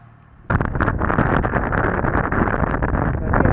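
After a brief quiet moment, loud wind noise suddenly roars in and keeps blasting, steady and close, like rushing air while riding a motorbike at speed in strong wind.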